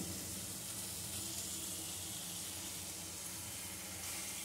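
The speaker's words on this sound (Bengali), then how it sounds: "এবারে আমি এর মধ্যে ভেজে রাখা বেগুনগুলো দিয়ে দিচ্ছি।" Fried brinjal pieces go into a spice paste in a pan, giving a soft, even sizzle and hiss that holds steady and fairly faint from start to finish.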